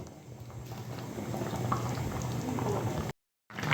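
A pot of thin Bengali fish curry with ridge gourd, potato, tomato and silver carp simmers uncovered, giving a steady low bubbling and liquid churn at close range, fairly quiet, with a short dropout near the end.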